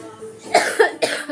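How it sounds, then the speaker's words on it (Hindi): A few short, close coughs in quick succession, fairly soft, with no talking. "आप कहोगे खांसी हो रही है"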